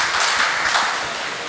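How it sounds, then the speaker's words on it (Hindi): Applause from a crowd at a traders' gathering in Bahadurgarh, greeting a local MLA. Broad, steady clapping that fades slightly toward the end. "आइए विधायक साहब जी के जोरदार एक बार तालियों के साथ स्वागत करें विधायक राजेंद्र सिंह जून जी"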